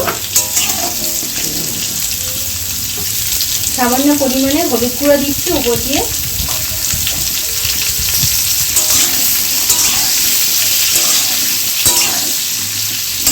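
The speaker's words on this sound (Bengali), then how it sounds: "কেটে রাখা আলুটা তেলে দিয়ে দিচ্ছি" Cut potatoes frying in hot oil in a kadai for a paneer dish, a steady broadband sizzle running throughout with a brief stretch of stirring clatter, while someone talks over it.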